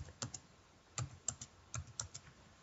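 Fingers tap on a computer keyboard in short, quiet bursts of a few keystrokes each, close by against a hushed room.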